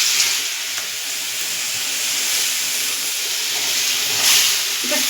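Pieces of papaya dropped into hot oil give a loud, steady sizzle and hiss that goes on without pause, close up and with no talking.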